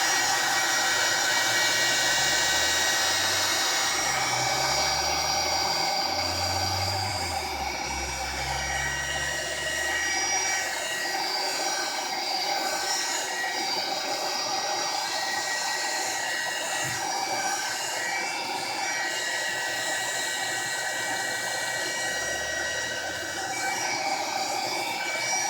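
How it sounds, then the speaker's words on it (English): A hair dryer runs continuously at close range, drying a napkin craft project: a loud, steady blowing whir lasting the whole stretch, with slight shifts in pitch as it is moved. "let me just dry it one more time"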